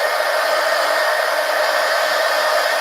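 A hair dryer blows steadily at close range, drying thick palette-knife-applied paint in an art journal, a continuous loud airy whoosh with no pauses and no talk.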